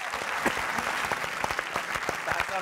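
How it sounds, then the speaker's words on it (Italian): Audience applause at a live Propaganda Live broadcast segment, steady dense clapping throughout, close and moderately loud with no talk over it. "Grandissimo applauso."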